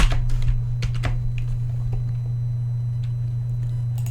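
Keys clatter on a computer keyboard while CSS is entered, with bursts of quick clicks early that thin to sparse, lighter taps over a steady low electrical hum; close and fairly quiet, with no voices.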